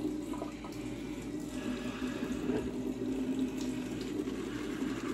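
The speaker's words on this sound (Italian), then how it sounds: "Diamo un po' d'acqua." Tap water runs steadily into a sink during preparation for a shave with sandalwood-scented products, a continuous broadband rush at close range with no talking over it.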